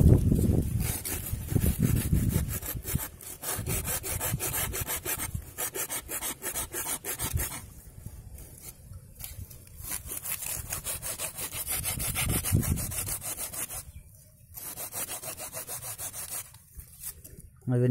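Sawing through a red banana tree sucker, steady rasping back-and-forth strokes of a blade through fibrous stalk, loud and close, running nearly continuously with a few short pauses.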